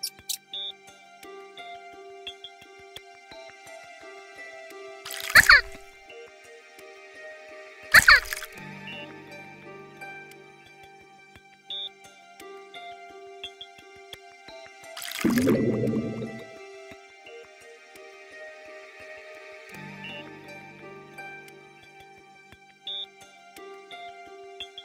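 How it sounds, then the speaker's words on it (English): In a children's doctor game, liquid ingredients are poured into a test tube, heard as a few distinct pouring and bubbling sound effects over a soft, steady musical background. "Drag the ingredients over to the test tube to pour them in."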